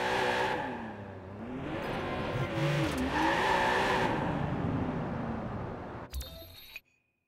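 Car driving in Watch Dogs 2, a loud, steady engine roar with shifting revs and tire noise, fading near the end into a short metallic clatter before cutting to silence.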